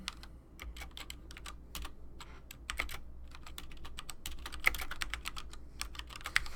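Fast, uneven clicks of typing on a computer keyboard, close and fairly quiet, come in short bursts with brief pauses over a low steady hum.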